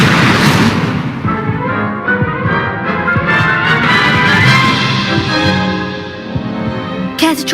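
A fire spell cast in Hogwarts Legacy roars as a loud, dense burst of crackling flame and booming noise, sustained for several seconds before a sharp final crack.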